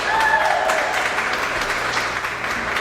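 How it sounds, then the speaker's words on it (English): Applause from an audience honoring Miss Massachusetts at an event with a mayor, a dense, steady wash of clapping that holds at full loudness for the whole stretch, close and unbroken. "Round of applause for Gabriela."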